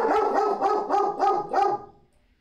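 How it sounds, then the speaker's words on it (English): A dog barks five times in quick succession, close and loud, each bark short and evenly spaced, then stops into near silence. "She's not barking at anything. She's barking at me."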